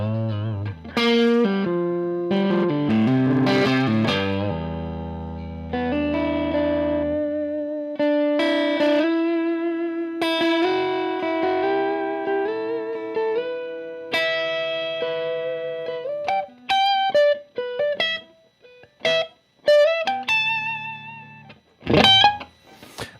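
An electric guitar plays through a Bad Cat Cougar 5 5-watt 1x12 combo amp, with sustained chords and single-note lines that break into choppy, staccato picked phrases toward the end, played alone with a slightly driven tone.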